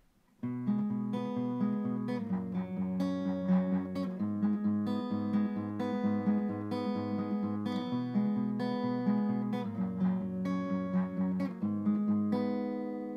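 Acoustic guitar strums the chord progression of a song with steady, ringing chords, played close and clear with no voices.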